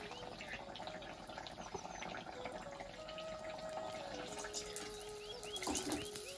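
Tap water runs steadily in a home kitchen while rice-flour pua pitha is being made, a continuous close wash of liquid with faint kitchen clatter and no talk.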